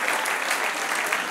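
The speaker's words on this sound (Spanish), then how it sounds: "Dar un aplauso al Señor" Churchgoers at an evening service giving a round of applause, a thick, bright rush of clapping hands that stays loud and even across the whole short stretch.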